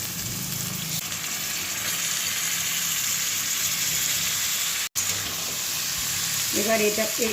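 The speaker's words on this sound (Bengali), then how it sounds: "এরপর আমি চিকেনটা দেখুন এইভাবে দিয়ে দিচ্ছি।" Boiled chicken pieces go into a sizzling pan of coriander leaves and onion, giving a steady, close frying hiss throughout with a brief break; a short voice comes in near the end.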